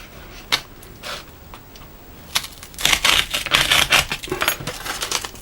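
A small Key Master keychain tool slices through cardboard packaging. A few isolated clicks come first, then a close, dense run of crisp tearing and scraping cuts for about two seconds, with no talking.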